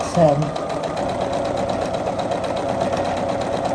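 A sewing machine stitches a quarter-inch seam on a quilt top, a steady rapid mechanical whir and chatter that runs nonstop at close range while someone talks over it.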